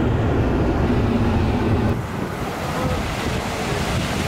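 Steady ocean surf at Laguna Beach rolls on as a dense, continuous roar mixed with heavy wind buffeting the microphone.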